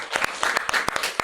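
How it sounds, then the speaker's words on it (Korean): Brief burst of church congregation applause during a Sunday worship service, a quick run of distinct, fairly close claps in a loose rhythm over a dense background patter. "우리 하나님께 감사의 박수 한번 올려드리겠습니다."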